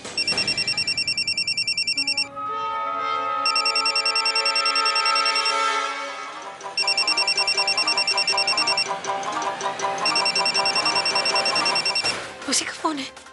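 A telephone rings in repeated bursts of a bright electronic trill, four clear rings with short gaps, loud and near, over a soft musical background in a Hindi television drama scene.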